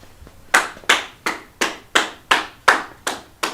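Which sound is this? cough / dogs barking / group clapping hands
group clapping hands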